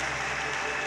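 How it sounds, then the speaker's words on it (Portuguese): A congregation at a baptism service applauds in a dense, continuous wash of clapping that stays steady and fairly loud for under a second. "Você pode aplaudir o Senhor?"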